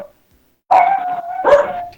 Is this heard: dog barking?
yes